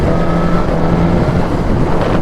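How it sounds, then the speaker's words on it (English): Wind rush and a steady engine drone while riding a motorcycle, a constant loud broadband roar with a faint low hum, heard without any voices. "but you just don't hear half as much wind noise as what you would without it"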